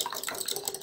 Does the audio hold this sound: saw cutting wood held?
no